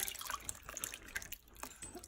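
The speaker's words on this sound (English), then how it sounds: "Then you just pour it all over" Liquid is poured over beef tips in a crock pot, making a faint, close trickling and dripping splash that runs unevenly for a couple of seconds.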